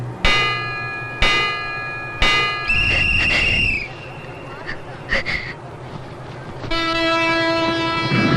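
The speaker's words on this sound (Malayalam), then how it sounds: "train number 6526 Bangalore bound Kanyakumari Bangalore express leave from platform number 1 shortly" At a platform, the Kanyakumari–Bangalore Express departs with several loud horn blasts, some short and some held, over a low rumble of the train, with voices mixed in.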